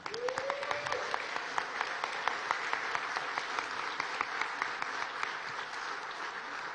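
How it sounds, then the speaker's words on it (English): An audience at a Nevada governor-elect's victory speech gives a steady round of applause, a dense wash of many hands with crisp individual claps, somewhat distant in a large hall and sustained for several seconds. "Everybody give her a round of applause there"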